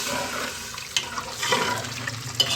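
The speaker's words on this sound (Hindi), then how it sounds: "अब इसमें हम पानी डाल देंगे।" Water is poured into a pot of chicken nihari after the masala has been fried, a steady gushing splash that lasts throughout, heard alone without talk.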